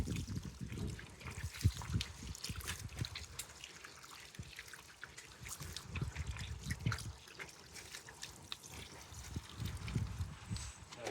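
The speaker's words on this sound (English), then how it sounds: "Just going to give it a bit of water with that tomato food." Water trickling and splashing over the soil of a freshly replanted olive tree, mixed with tomato feed, in irregular close bursts that swell and fade across the clip, with no talking.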